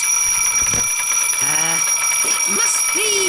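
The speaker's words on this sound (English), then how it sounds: "My alarm clock's just gone off." A cartoon alarm clock rings loudly and continuously with a high, sustained metallic tone, while animated voices and squeaky sound effects break in over the ringing.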